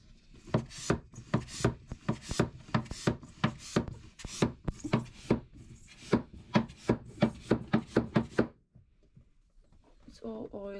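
Hand pump drawing oil out of a boat bilge beside a leaking Perkins engine, a steady run of sharp rhythmic strokes, close and clear, that stops near the end before some faint rustling.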